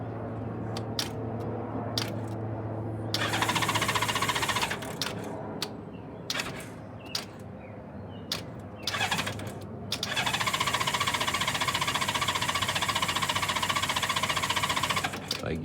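A 1994 Honda GL1500 Goldwing motorcycle engine cranks in repeated bursts with starter whirring and brief pauses, then catches and runs with a loud, steady mechanical hum up close.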